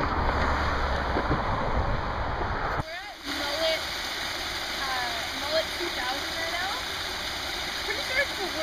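A creek rushes steadily from start to end, a dense, loud wash of flowing water with a brief dip and click partway through, heard close up with no one speaking.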